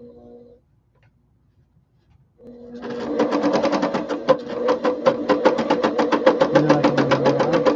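A sewing machine bastes felted fabric, starting after a short pause and then running in a fast, steady, rhythmic chatter of stitches close to the mic.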